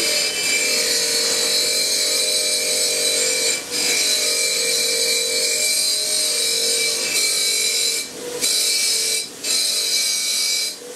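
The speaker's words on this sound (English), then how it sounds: "Pretty handy tool to wire wheels" A wire wheel on a power tool grinding paint off metal before welding, a loud continuous whirring scrape with brief dips as the wheel lifts off the workpiece.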